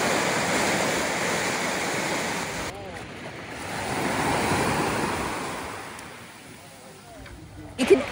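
Sea waves wash continuously near a beach where water taxis run, with a steady roar and soft wind noise that swells and fades before a brief louder splash at the end.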